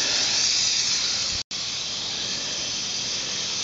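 A Shurflo 12-volt water pump sprayer runs at open flow from a 3-gallon bucket of chemical, giving a loud, steady rushing hiss that stops for a split second once.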